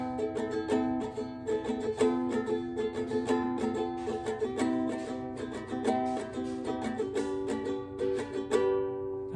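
Ukulele strumming the bridge chords of a song, close and clear, with steady rhythmic down-up strums, chords ringing and changing every couple of seconds, no voice.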